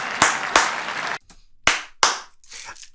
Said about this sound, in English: If y'all notice, I'm the type of person to clap a lot.